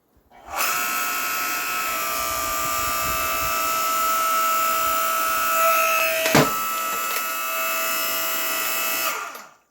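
A Harbor Freight 5-ton electric log splitter drives through a large 14-inch log with a steady, loud motor whine and hum that holds evenly, with a brief crack partway through, then cuts off.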